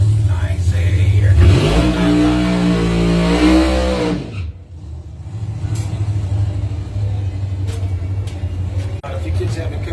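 Blue Mamba drag racing car revving at a Bowties test and tune session: a loud, rough engine rumble with a rising rev for the first few seconds, then a steadier roar. The setting sounds open and crowded.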